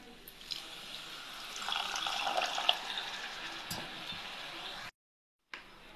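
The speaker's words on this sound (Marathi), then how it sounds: "त्याच्यामध्ये थोडं पाणी ऍड करणार आहे" Water being poured into a simmering cauliflower curry, a steady splashing hiss that runs for about five seconds before cutting off abruptly.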